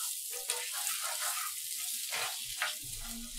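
Onion sautéing in a hot pan gives a soft, steady sizzle with a few brief clinks and stirring sounds, close by and fairly quiet, with no voices.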